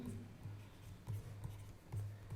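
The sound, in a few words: writing a chemical formula on a board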